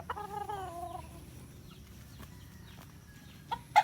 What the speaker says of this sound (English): you see roosters being bred for cockfighting